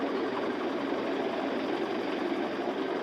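A trawler boat's engine runs steadily mid-river on the Turag, a dense continuous drone with rapid mechanical chugging and no pauses, close and even throughout.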